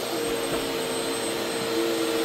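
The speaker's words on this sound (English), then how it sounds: "he switches on the vacuum, abruptly pulling Kim out of her room." A vacuum cleaner runs at full power with a steady, loud, high whine and roar, continuous and unbroken throughout, with no voices over it.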